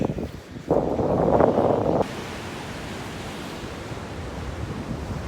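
Ocean waves wash onto a beach with a high tide reaching toward the dunes, a broad steady roar of surf with a louder swell early on, followed by constant wind-buffeted rushing noise, no talking.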